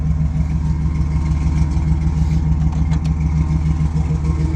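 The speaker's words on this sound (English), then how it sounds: "I'm going to shut the engine off." A 1969 Plymouth Road Runner pro street car with a 383 V8 and four-speed sits idling, its loud, close exhaust holding a steady, lumpy low rumble throughout with no talk.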